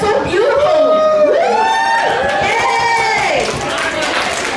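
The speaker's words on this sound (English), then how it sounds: "A round of applause for each and every one." Audience at an International Women's Day event cheers loudly, with high whoops and excited voices overlapping over scattered clapping, sustained and close.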